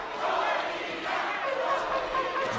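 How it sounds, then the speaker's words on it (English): A Mexican boxing crowd chants for the home favourite Molina, a dense, sustained roar of many voices filling the arena at steady loudness throughout. "And chants from the Mexican crowd go up for the home favourite Molina"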